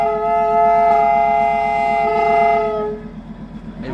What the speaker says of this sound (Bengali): এই হুইসেলটাই অসাধারণ।